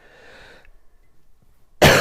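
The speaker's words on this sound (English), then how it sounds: "I know I'm coughing too." A single loud, close cough bursts out near the end, after a stretch of quieter voice-like murmur and near silence, during a chat on a cold day.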